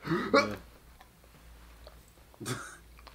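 A short, sharp sneeze-like burst at the start and a second, breathier one near the end, both close up, with quiet room tone between.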